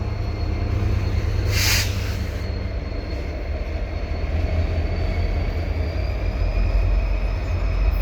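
Two back-to-back SD70M-2 locomotives haul a mixed freight train under the Dorval ramp, a constant heavy rumble with rolling wagon noise and a brief high squeal early on, close and sustained throughout.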